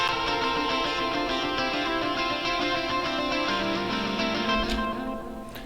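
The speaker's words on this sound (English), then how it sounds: "I know it sounds like there's a lot of delay, a lot going on there" Layered metalcore electric guitar lines with delay ring out together, with repeating echoed notes building a dense, sustained riff before fading slightly at the end.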